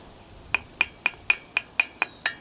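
An old glass landscape light cover clinks eight times in a quick, even rhythm, each bright, ringing tap close and distinct against a quiet background.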